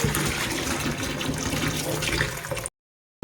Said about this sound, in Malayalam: ചെമ്പരത്തിയിലയും പൂവും കൂടി നന്നായിട്ട് വെള്ളം ഒഴിച്ച് കലക്കി കഴുകിയെടുക്കുവാണ്